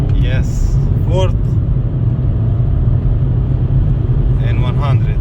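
A VW Golf V 1.4 16V on a test drive, its engine rumble steady and close inside the cabin as it pulls through the gears, with a voice speaking briefly over the low drone.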